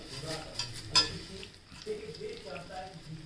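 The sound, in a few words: frying crushed urad papad in oil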